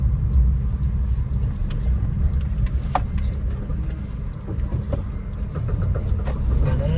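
A car drives along steadily, its engine and road rumble loud and continuous in the foreground, with a few faint beeps and clicks above; no one speaks.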